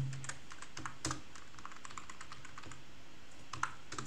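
Irregular clicking keystrokes on a worn-out, faulty computer keyboard during a home Slackware server setup, fairly close and fairly quiet, with a few louder key hits standing out against a steady hiss.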